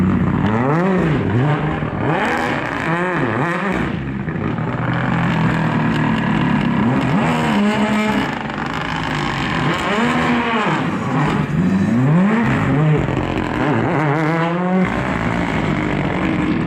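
Rally car on the Monte-Carlo city super special stage, second pass taken more gently, engine note rising and falling as it approaches and passes at close range, with strong continuous roar throughout.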